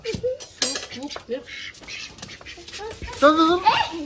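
An escaped duck at a family home quacks in short nasal calls, with a louder burst near the end, while people talk excitedly over it.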